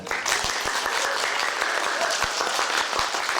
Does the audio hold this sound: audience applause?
yes